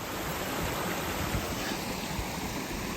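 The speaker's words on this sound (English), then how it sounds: "Little ephemeral waterfall." A small ephemeral waterfall running after heavy rain, heard as a close, steady broadband rush of falling water that stays even and unbroken throughout, alone without any talk.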